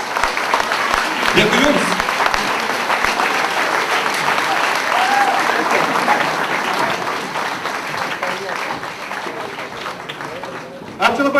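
A crowd at a live comedy league show applauds loudly for a performing team, with dense, sustained clapping and a voice speaking briefly over it near the end.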